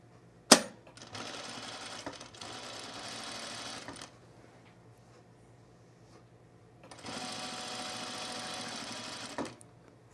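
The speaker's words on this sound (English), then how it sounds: "Sometimes your machine just kind of grabs it and wants to sew it where it wants to sew it." Close sewing machine stitching a seam on culottes: a sharp click, a steady whirring run of about three seconds, a quiet pause, then a second run before another click.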